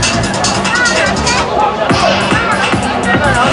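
A dense crowd at a Burmese Chinese Water Festival gathering in New York cheers and clamors for an office representative, a loud, continuous roar of voices and shouts with no pause.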